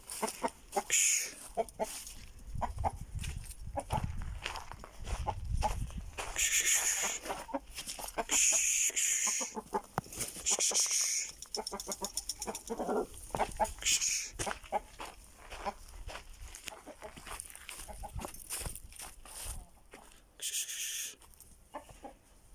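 Chickens and roosters in a backyard coop cluck and squawk in scattered bursts, some calls close and sharp, others softer, continuing throughout with brief lulls.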